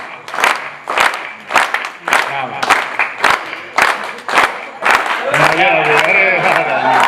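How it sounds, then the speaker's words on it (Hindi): A live audience at a comedy show claps loudly in a rhythmic, unison beat, the claps coming in regular bursts that swell into a fuller, continuous crowd noise near the end. "क्या गजब तालियां बजाते हो आप यार"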